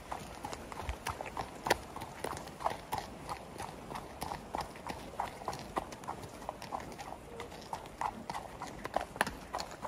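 A horse walks along an outdoor hack, its hooves clip-clopping in a steady, close, even rhythm throughout, with faint outdoor background and no talk over it.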